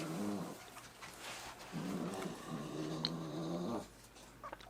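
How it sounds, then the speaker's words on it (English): A small dog growls low and steadily, in rumbling stretches with brief pauses, close by and fairly quiet. "That noise is my little dog."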